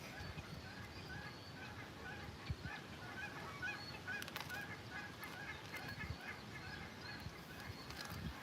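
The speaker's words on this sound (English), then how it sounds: "These birds sound like they're laughing." Geese honk in loud, cackling, laugh-like calls, heard from a shore spot during pike fishing. Busy layered calling continues throughout over steady outdoor background noise.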